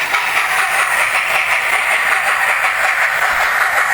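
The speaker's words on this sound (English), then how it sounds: "The actual chuffing noise, it does sound fairly similar to" Hornby BR Lord Nelson Class model steam locomotive running with its sound-equipped chuff, a continuous rhythmic hissing beat with faint track clatter, steady and close throughout.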